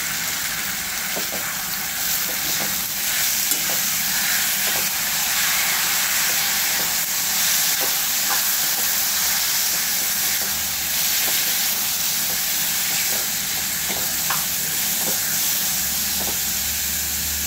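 Grated cucumber sautéing in a pan for Maharashtrian kakdicha korda: a loud, continuous hissing sizzle with light steam, punctuated by occasional faint stirring taps throughout.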